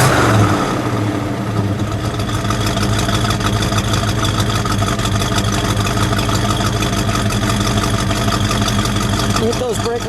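A 1968 AMC AMX V8 revs up from idle and holds a loud, steady, throaty roar with a rapid pulsing beat, close by, while a voice speaks briefly over it.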